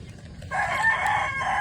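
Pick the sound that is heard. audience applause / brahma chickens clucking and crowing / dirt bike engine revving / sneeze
brahma chickens clucking and crowing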